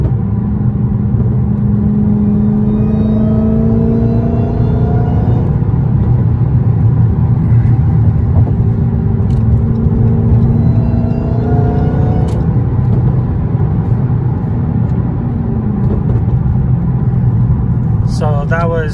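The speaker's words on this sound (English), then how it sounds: "you can definitely notice the supercharger whine" Inside a Dodge Hellcat fitted with a cold air intake, the supercharged engine drones loudly and continuously while rising and falling whine tones from the supercharger sweep over it as the car accelerates.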